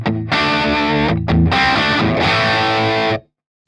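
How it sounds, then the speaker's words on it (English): A loud, heavily distorted electric guitar plays sustained chords through a 100-watt amplifier at high volume, with a brief break near the start, then cuts off abruptly. "For distorted sounds, I have to turn the volume up."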